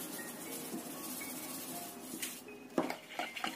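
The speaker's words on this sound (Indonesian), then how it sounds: "Kocok sampai tercampur rata bumbunya." Eggs mixed with pepper, salt and bouillon powder are beaten in a bowl, giving a quiet, continuous scraping swish followed by a few sharper clinks of utensil against the dish near the end.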